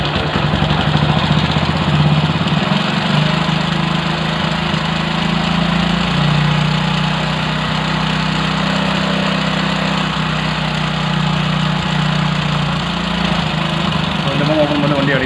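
A motorcycle engine idles steadily after its carburetor has been cleaned, a continuous low mechanical hum with the throttle held open, close by and fairly loud, with a slight dip in pitch near the end.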